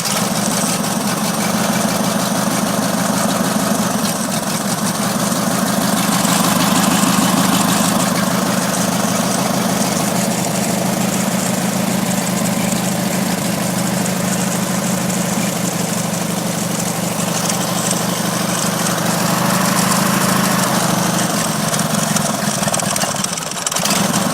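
A Briggs & Stratton opposed twin engine, just back together after a head gasket repair, runs steadily at idle for the whole stretch, a loud close low rumble with a slight knock and no talk over it.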